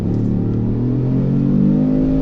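A 2018 Kia Stinger GT1 with a rear-wheel-drive twin-turbo V6 accelerates hard, its engine note rising smoothly and loudly from inside the cabin.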